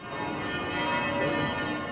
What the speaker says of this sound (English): Throughout Europe, the bells of the great cathedrals tolled, from Vienna to Paris.